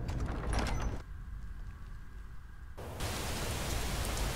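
Steady rain hiss in the video game Honorless, broad and noise-like. It drops away for a couple of seconds to a muffled quiet, then returns just as dense.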